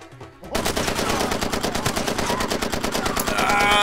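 Rapid burst gunfire in Far Cry 2, a loud close string of sharp shots rattling at a fast even rhythm right after a brief quiet lead-in, with no voices.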